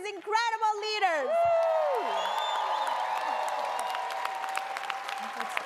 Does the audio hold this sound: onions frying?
no